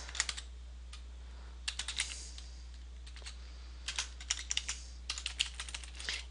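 Quiet, close typing on a computer keyboard, coming in short bursts of rapid key clicks with brief pauses between them, over a low steady hum.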